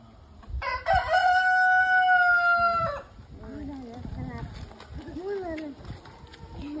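A rooster crows once, a loud, close, drawn-out call with clear harmonics lasting about two seconds, followed by people talking nearby.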